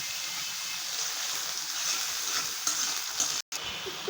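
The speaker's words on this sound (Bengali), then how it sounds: "প্রথম আমি পেঁয়াজগুলো একটু ভেজে নিলাম হালকা ভেজে নিলাম তারপরে কিমাটা দিয়ে দেবো" Onions and chicken mince fry in a pan while momo filling is cooked, giving a continuous bright sizzling hiss with small crackles and stirring scrapes, steady and close, with a brief cut of silence near the end.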